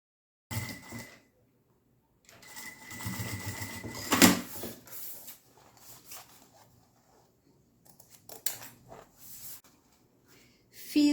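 A domestic sewing machine stitches synthetic leather for a boxy pencil case in bursts of quiet mechanical whirring, with a sharper clack partway through and pauses between short runs.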